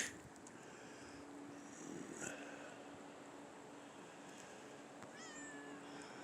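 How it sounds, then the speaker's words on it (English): A kitten meows in a quiet outdoor winter setting with a steady background hum, giving a couple of faint, thin calls, the clearest near the end. "Meow."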